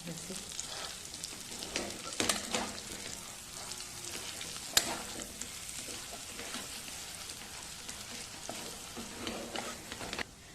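Gram flour roasts in ghee inside a kadhai, giving a soft, steady sizzle and crackle with occasional scraping stirs, fairly quiet, while a voice talks briefly over the cooking.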